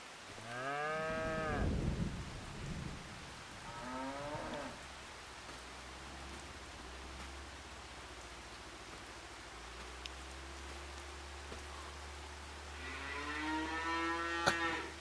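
Cattle in the Krustoo Farms farm game moo loudly several times at the start, again midway, and once more near the end, with a low steady hum in between.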